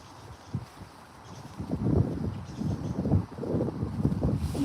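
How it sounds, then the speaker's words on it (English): Gusty wind buffeting a microphone outdoors during camp cooking in a mess tin, rising after the first second into steady low rumbling bursts that swell and fall, no voices. "Wind's picking up."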